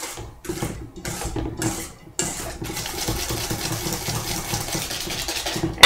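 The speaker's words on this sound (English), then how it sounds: "Mix that together really good." Cookie batter being mixed: a few rhythmic bursts of stirring give way to a continuous whirring churn that runs steadily to the end, fairly close and without talk.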